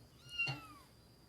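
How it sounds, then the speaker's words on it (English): A cat in the video game Pentiment gives a single short, soft meow that rises and falls, heard alone over quiet background. "Look at the kitty."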